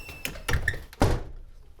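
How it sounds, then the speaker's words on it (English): A door being pushed shut while a deadbolt lock is installed, a few close knocks and thuds ending in one firm thump against the jamb, then quiet. "So I'm going to close the door."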